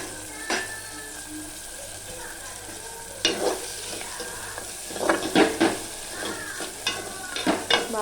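Tomato pieces frying in a pan with green chillies for a Telugu-style chicken curry, soft sizzling with several sharp scraping stirs of a spatula, close and fairly quiet.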